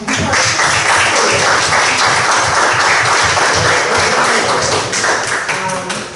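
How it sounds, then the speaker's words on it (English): A crowd applauds steadily for several seconds at a town council meeting, dense clapping filling the space and tapering slightly at the end. "I think that deserves a round of applause"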